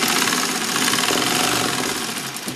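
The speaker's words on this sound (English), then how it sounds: "I'm gonna go forward and backward, and I'm gonna sew it all the way around" Sewing machine stitching two hammocks together, running steadily at speed with a dense buzzing, rapid needle rattle that holds for a couple of seconds.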